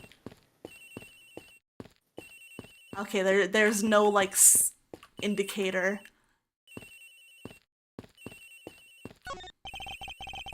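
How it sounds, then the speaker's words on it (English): A cell phone aboard an aircraft in the Ace Attorney Investigations game rings with a repeating electronic lullaby-like ringtone in regular bursts, with a person talking over part of it. "Sounds like the phone is up in the flight attendant's room."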